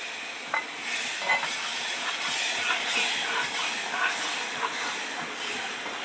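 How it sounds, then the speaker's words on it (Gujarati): Chili tempering in hot oil in a pan sizzles in a steady, bright hiss, with occasional stirring clicks and pops over it. "હવે સુગંધ આવી વઘારની હો રાજુભાઈ"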